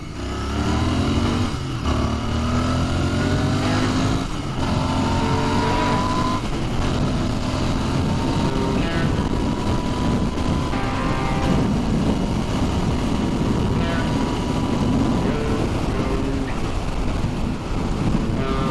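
Royal Enfield Interceptor motorcycle engine revving up through the gears while riding, rising and falling engine tones repeating over steady wind noise, loud and close throughout.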